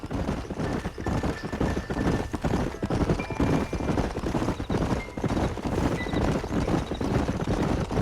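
Horses' hooves clip-clop steadily in the video game Red Dead Redemption, a continuous close rhythmic patter of several riders on a trail, with faint tonal game sounds layered over it.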